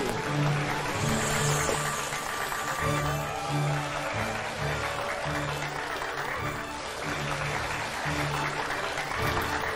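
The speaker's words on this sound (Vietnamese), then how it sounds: "Xin một tràng pháo tay chào đón hai bạn nữ" Audience applause greeting two women arriving on stage at a Vietnamese dating game show, a steady, dense wash of clapping holding for the full stretch over a low, rhythmic music bed.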